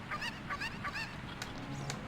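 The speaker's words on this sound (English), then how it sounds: "And a very unfortunate placement of a chicken." Cucco chickens in the video game Ocarina of Time squawk in a short run of honking, goose-like clucks, several quick repeated calls over a steady game background.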